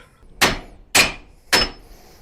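A hammer strikes a Honda Accord axle during transmission removal, three sharp metallic blows evenly spaced about half a second apart, each loud and close with a short ringing decay.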